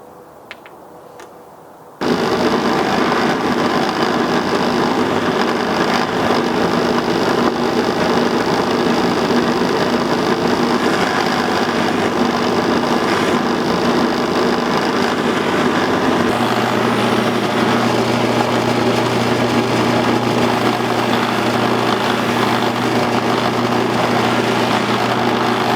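A power polishing tool runs on metal, a steady loud whirring drone starting abruptly after a quiet moment, with a shift to a lower, stronger hum toward the end.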